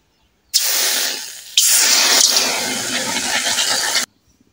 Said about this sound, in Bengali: এখন কিছুটা পরিমাণ পানি দিয়ে